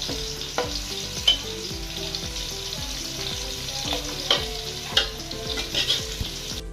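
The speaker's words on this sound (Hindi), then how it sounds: "हमारा प्याज ब्राउन हो रहा है।" Onions brown in a pan for chicken pulao with a continuous bright sizzle up close. Rhythmic stirring scrapes and taps repeat throughout.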